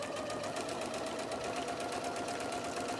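A sewing machine runs steadily and close up, joining jelly roll strips for a quilt in a continuous even hum.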